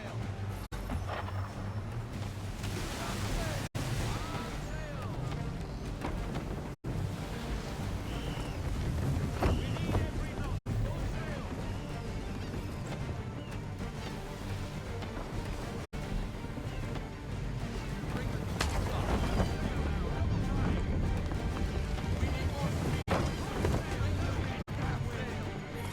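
Sailing ship running at full sail in Assassin's Creed III, a steady roar of wind and rushing water with low rumbling hull noise, loud and continuous throughout, with occasional brief dropouts and louder gusts toward the end.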